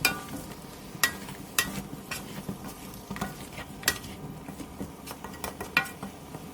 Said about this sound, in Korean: 고추장, 고춧가루, 진간장, 멸치 액젓을 넣고 다시 한번 골고루 섞어주세요.